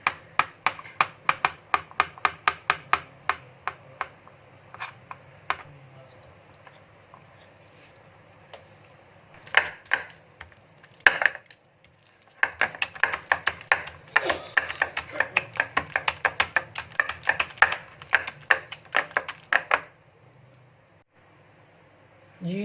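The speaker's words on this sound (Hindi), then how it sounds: "सबसे पहले हम जो है ये बनाना काट लेंगे" A knife chopping bananas on a board: rapid, close, crisp taps in quick bursts, pausing briefly and then resuming in a dense run before fading out.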